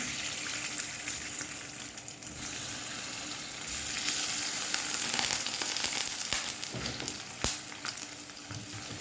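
Pieces of lamb sizzle steadily as they fry in a pan, a continuous close crackle with occasional louder spits and pops, no talking.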